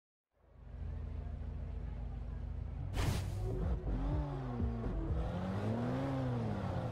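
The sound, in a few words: Lamborghini Veneno engine revving in the video game Forza Horizon 2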